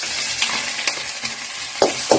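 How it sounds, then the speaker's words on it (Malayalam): Steady sizzling of a spice paste sautéing in coconut oil with mustard seeds in a pan, with a few scraping stirs of a spoon, close by, a couple of sharper clacks near the end, no voices. "ചട്ടി ചൂടായി അതിലേക്ക് വെളിച്ചെണ്ണ ഒഴിച്ച് കടുക് താളിച്ചു അതിലേക്ക് അരപ്പിട്ട് അരപ്പൊന്ന് വഴറ്റി"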